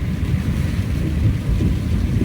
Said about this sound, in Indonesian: Ya gerimis lumayan gede sih hujan ya.